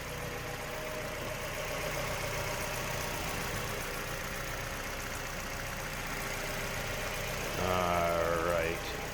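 A 2001 Mazda MX-5 Miata's 1.8-liter four-cylinder dual overhead cam 16-valve engine idles steadily at close range, with a brief louder swell near the end.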